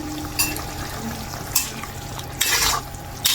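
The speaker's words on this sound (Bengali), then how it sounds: "বল মাছ কষানো মশলার সাথে টমেটো দিয়ে দিলাম" Fish is sautéed with spices and tomato, a spatula stirring it in a pan: a soft sizzle with three distinct scraping strokes against the pan, close by.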